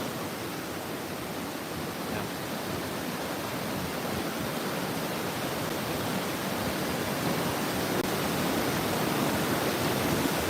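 The Bayang Sani waterfall, swollen after a major flood, roars as a dense, constant, full-bodied rush of water, loud and unbroken throughout with no voices.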